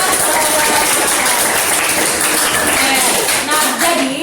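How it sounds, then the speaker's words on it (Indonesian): Classroom applause during a student teaching exam session, a dense wash of clapping from many hands filling the room at steady loudness, with voices mixed in. "Oke, tepuk tangan buat."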